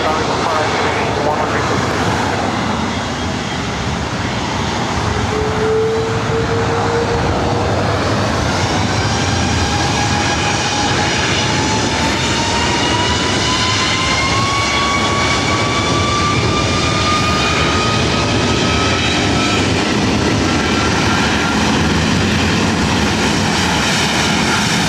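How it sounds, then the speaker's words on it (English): Jet airliner roaring down the runway at LAX on takeoff, a loud continuous engine rush with a rising whine sweeping upward as it climbs, heard close with a faint voice underneath. "runway 24 right, clear for takeoff"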